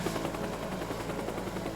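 A helicopter in the video game Teardown holds a steady, continuous rotor drone with a rhythmic chop, loud and close, with no other sound over it.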